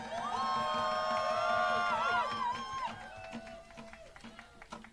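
Rally crowd cheering and whooping loudly at first, with a voice shouting over it, then the noise fading to scattered cheers and claps.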